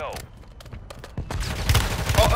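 Mortar fire in a Call of Duty match, with bursts of explosive, crackling gunfire that swell louder toward the end, mixed with game noise and a voice talking.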